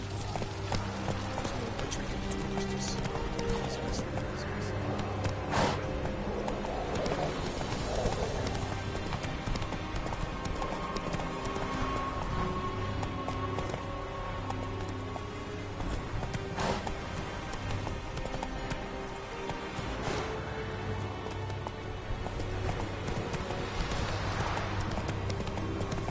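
Horse galloping in the video game The Witcher 3, a continuous close clip-clop of hooves at a fast running rhythm over game ambience, with a brief whinny, and no talk.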